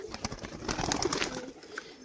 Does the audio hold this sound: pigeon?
yes